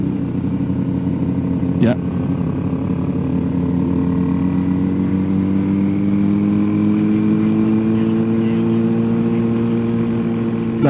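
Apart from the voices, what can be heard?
Mitsubishi car engine as the clutch is let out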